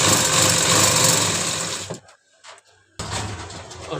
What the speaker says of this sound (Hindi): तो एक साइड से आपने ऐसे सिलाई लगानी है इसको